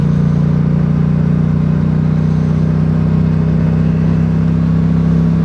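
Yamaha R7 motorcycle engine holding a steady, loud drone at high revs, a constant mid-pitched hum with no pauses, ridden near the beach at golden hour.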